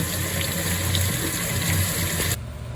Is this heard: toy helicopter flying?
no